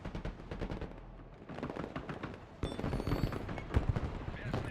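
Mortar fire in the video game Broken Arrow thuds and rumbles in repeated bursts, with heavier impacts in the second half and a voice speaking under the barrage.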